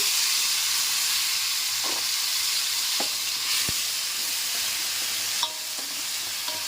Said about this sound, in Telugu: ఇప్పుడు మనం ఇందాక మిక్సీ చేసి పెట్టుకున్న ఆనియన్ పేస్ట్ వేసేసుకుందాం